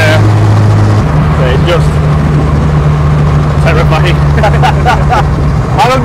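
A 540bhp Vauxhall Chevette sleeper accelerates hard with its wheels spinning, a steady loud engine drone running throughout while people talk over it.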